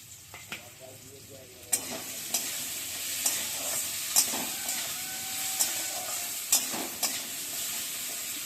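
Chopped onion sizzles in hot oil with rohu fish head and salt and turmeric, a steady frying hiss broken by repeated sharp scrapes and knocks of a spatula stirring the pan.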